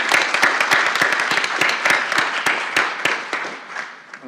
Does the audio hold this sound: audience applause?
yes